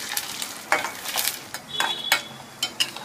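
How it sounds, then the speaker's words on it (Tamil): Mung dal and rice being roasted in ghee for paal payasam, a soft continuous sizzle broken by repeated scraping strokes of a spatula against the pan, close and without speech. "முதல்ல பயத்தம்பருப்பையும் அரிசியும் நெய்யில் நல்லா பொரிய வறுத்துக்கணும்"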